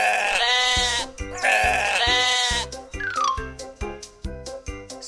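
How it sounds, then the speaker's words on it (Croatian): A sheep bleats twice, loud and close, in long wavering calls, followed by a bright, tinkling musical jingle. "Tako je, to je ovca."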